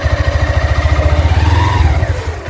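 A motorcycle engine putters in a close, steady low pulse as the clutch is released and the throttle is eased up to pull away, the tone shifting slightly near the end.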